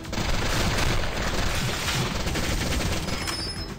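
Loud automatic fire from a gun in the video game Sift Heads Reborn, shots packed into a continuous rattling barrage that holds steady for several seconds.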